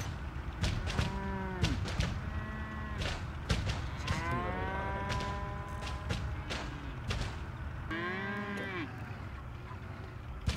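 Cartoonish cow moos from the Wobbly Life video game, several drawn-out calls spread across the clip over a steady game background, with no talking.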